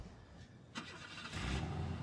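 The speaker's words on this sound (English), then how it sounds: "Push of a button, the symphony of a brand new Mustang's engine" A brand new Ford Mustang engine starting at the push of a button, with a sharp crank burst partway through, then a louder, steady rumble building as it settles into a running idle.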